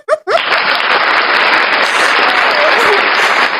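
A burst of loud, dense applause follows a short vocal sound at the very start. The clapping holds at a steady, close, even level to the end and may be a canned effect.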